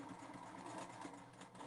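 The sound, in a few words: sewing machine sewing a back stitch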